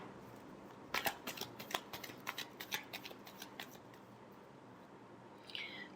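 Tarot cards being shuffled by hand: a quick series of soft, crisp card riffles and slaps close by, then quieter handling that fades toward the end.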